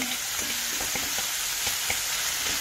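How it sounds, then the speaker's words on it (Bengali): Tomatoes with salt fry in a pan, a constant close sizzle broken by the light taps and scrapes of a spoon stirring them, with no talking. "8টা টমেটো দিয়ে আমি এবার এটাকে আরো কিছুক্ষণ ধরে চালাবো"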